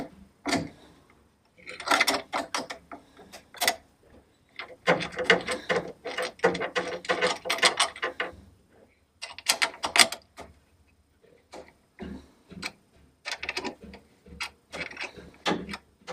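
Bolts holding the cooling fan to the radiator of a Ford Escort Mk1 being swapped with a ratchet: bursts of quick, close, clicking ratchet strokes separated by short pauses.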